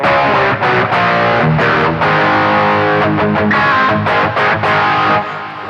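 Distorted electric guitar playing chords and riffs continuously through a Boss ME-25 multi-effects pedal plugged directly into a mixer, loud and processed with effects, no voices.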